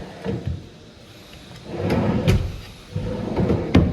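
A drawer on a playhouse cabinet slides open and shut several times, giving hollow wooden rumbles and knocks in a few bursts, close and fairly loud with no talking.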